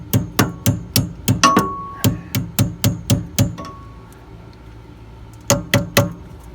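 Sharp, evenly spaced metallic hammer strikes bending cotter pins on a Wanderlodge tie rod and drag link, a steady run of about a dozen loud close blows, a pause, then three more.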